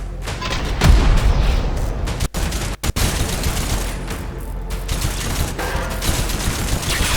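Weapon fire rings out in the shooter video game Scathe, a dense, loud barrage of rapid shots and booms that runs continuously with a couple of brief gaps.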